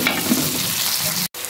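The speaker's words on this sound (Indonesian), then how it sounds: "Kita tumis-tumis sampai harum dan mewangi ini ya." Spices sizzle and are stirred in a frying pan for a chicken dish, with a continuous loud frying hiss and scraping that cuts off briefly near the end.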